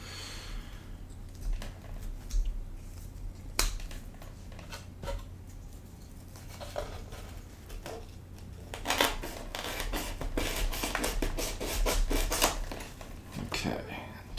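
Scissors snip through a spare length of rope in a few quiet, close cuts, with small rustles and handling noises between them.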